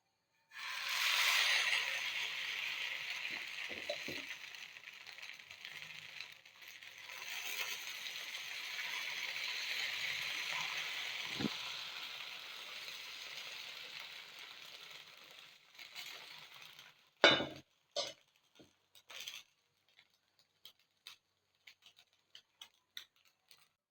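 Menthe sweet dosa batter on a hot griddle gives a steady, moderately loud sizzle that runs for about fifteen seconds and then stops. Scattered clicks and light taps follow.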